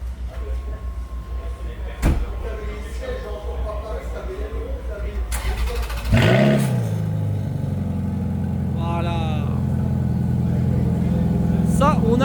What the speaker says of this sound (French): Donc démarrage de la F430 Spider. Là une vraie sonorité les gars, un V8 atmosphérique.